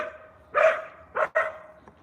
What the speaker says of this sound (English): Acha is barking loudly because she sees another dog over there somewhere